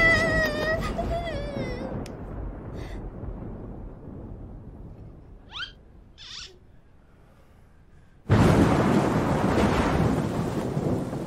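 Thunder during a storm: after a long hushed stretch with a few faint whimpering, hooting tones, a sudden loud crash breaks in and rolls on as a heavy rumble to the end.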